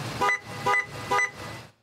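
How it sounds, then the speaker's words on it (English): A car horn, set off by a police K-9 vehicle's heat alarm, honks three times in a steady, evenly spaced rhythm, each blast loud and close, then stops. "the horn honks, lights flash, windows roll down, and a fan starts up"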